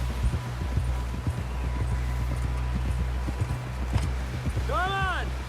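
Horse hooves clip-clop at a steady walking pace in the video game Red Dead Redemption II, with creaking tack and a brief whinny near the end.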